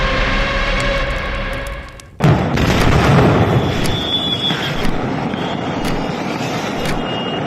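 A firecracker factory explosion in Harda, Madhya Pradesh, heard from several hundred metres away: a sudden, loud broadband blast bursts out after a steady background hum, then gives way to a long, heavy rumbling roar that slowly settles.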